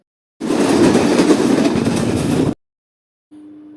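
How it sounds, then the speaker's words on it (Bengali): Another train rushes past close alongside a moving passenger train, a loud, dense roar of rattling wheels that lasts about two seconds and then cuts off, followed by a quiet low hum. "আপনার অনুভূতি কেমন হবে যখন আপনার পাশ দিয়ে আরেকটা ট্রেন যাবে?"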